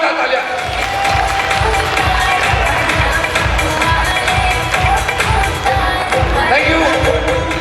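An audience at a speech event bursts into loud applause for the speaker's guru and team, dense sustained clapping mixed with cheering voices throughout.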